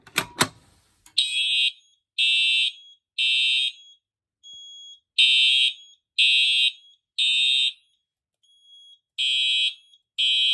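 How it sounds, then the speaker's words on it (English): After a brief clunk from a pull station, a Simplex 4004R fire alarm panel blares in repeated high electronic tone bursts with short gaps between them, loud and close. "I'll go ahead and activate this pull station now"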